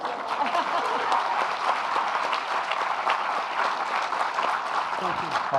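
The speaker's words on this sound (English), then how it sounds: "everybody has to at least pretend to be clapping" An audience at a fireside chat and Q&A claps together in a steady, dense patter, with some voices underneath, holding at an even level for several seconds.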